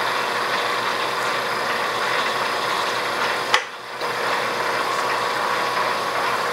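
Metal lathe cutting a very fine thread, a steady loud mechanical whir and hum with a brief sharp click partway through followed by a short dip before the running noise resumes, with no talk.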